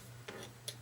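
Scissors snip through a cardstock pumpkin vine, two short crisp cuts about half a second apart, close but faint over a low steady hum.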